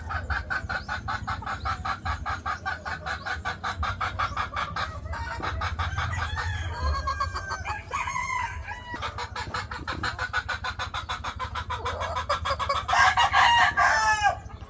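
Breeding hens cluck steadily in a busy, rhythmic chatter, with a rooster crowing loudly near the end; no one speaks.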